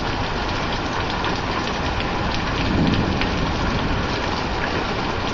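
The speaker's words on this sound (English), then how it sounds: "Got some more hail coming down." Small pea-sized hail pours down steadily in a spring thunderstorm, a dense, loud, continuous patter that swells slightly midway, with no voices.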